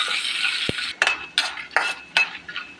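Peanuts and dried red chillies are stirred in a pan, a steady soft frying hiss broken by a series of sharp metallic scrapes and clinks from the spoon against the pan.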